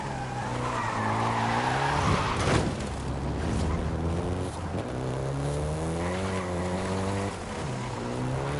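A Volkswagen Golf GTI in Forza Horizon 5, its engine droning steadily up and down through the gears with tires squealing, loud and close throughout, with no talk.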